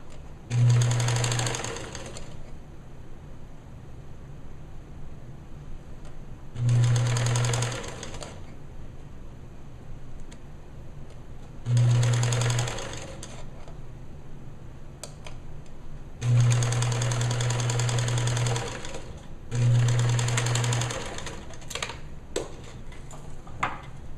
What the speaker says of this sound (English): We've applied the lace to the bottom of the gown, and now all we need to do is top stitch that